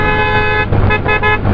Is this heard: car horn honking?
yes